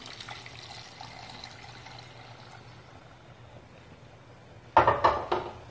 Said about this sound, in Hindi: पहले से ही पानी रखा है गर्म होने को तो इसी को डाल देंगे